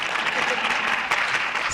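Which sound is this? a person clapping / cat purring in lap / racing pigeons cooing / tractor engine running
a person clapping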